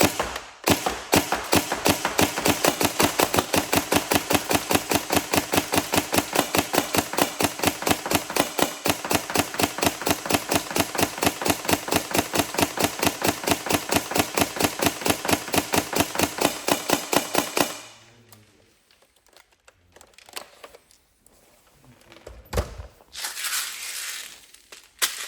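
A Tokyo Marui P90 airsoft AEG with a brushless motor fires a long, rapid, evenly spaced full-auto burst of sharp clacks for about seventeen seconds, then stops, leaving only quiet handling noises.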